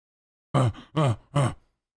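A man pants heavily, giving three loud, voiced, groaning breaths in a steady rhythm, close up, with silence before and after.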